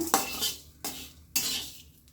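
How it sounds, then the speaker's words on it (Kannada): Cloves, fenugreek and other spices being dry-fried in a pan for bisi bele bath powder, heard as three distinct scraping stirring strokes of a spatula against the metal, close and clear. "ಮಸಾಲೆ ಪದಾರ್ಥ ಎಲ್ಲ ಕ್ಲೀನಿಗೆ ಫ್ರೈ ಮಾಡ್ಕೊಳ್ಳೋಣ"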